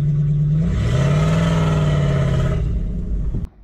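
A Toyota 1UZ-FE VVTi V8 swapped into a Mitsubishi Delica L400 4x4 van revs loudly and steadily, its pitch climbing and holding before dropping off abruptly near the end, heard close with no talking.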